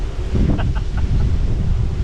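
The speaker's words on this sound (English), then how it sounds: "And it is so friggin' windy" Strong wind buffeting the microphone at a sandy river campground, a constant low roar with gusts throughout, and a few faint chirps from a small bird in the background.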